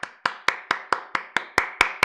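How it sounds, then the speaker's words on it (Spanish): A single pair of hands claps about ten times in a steady, even rhythm, each clap sharp and close, with no other sound. "un aplauso para el muchacho, ¿no?"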